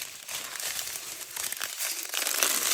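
Plastic packets of diamond painting drills are unwrapped up close, producing a continuous bright crinkling and crackling with no pauses.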